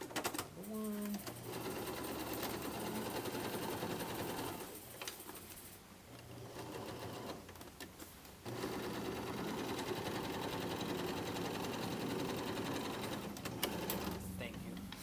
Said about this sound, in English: We're going to achieve it, but we're going to achieve it with the sewing machine.